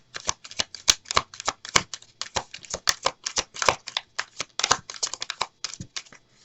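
Tarot cards being shuffled by hand in quick, uneven bursts of crisp riffling and flicking, close up and fairly soft, with no talking.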